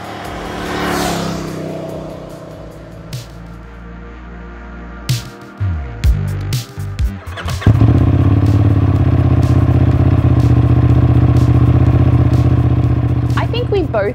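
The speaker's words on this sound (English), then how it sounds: "Both agreed that the sound of the stock exhaust on the Leoncino 800 is great." Benelli Leoncino 800 motorcycle on its stock exhaust: a few short throttle blips give way to a loud, sustained, deep engine roar close by, preceded by some clatter and faint voices.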